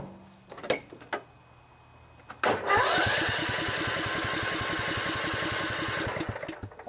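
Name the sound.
Kohler Command 14 engine running on a riding lawnmower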